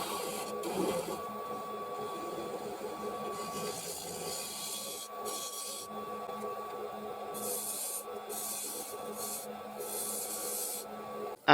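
A wood lathe turning while an Easy Wood mid-size tool cuts a tenon, giving a steady whirring drone broken by repeated scraping bursts, close and fairly quiet.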